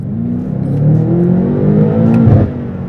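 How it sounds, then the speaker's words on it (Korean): Engine of a BMW M8 Competition coupe accelerating in sport mode, a loud, close, deep exhaust drone that rises and swells in pitch steadily, with no talking over it. "스포츠 모드 소리를 한번 들어보겠습니다"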